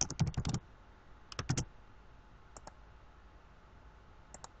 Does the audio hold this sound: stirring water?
no